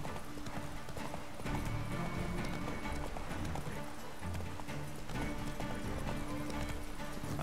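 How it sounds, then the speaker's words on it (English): Steady rhythmic hoofbeats of a horse galloping in The Witcher 3 video game, continuous and prominent throughout with dense in-game ambience and no talk. "My horse fears something!"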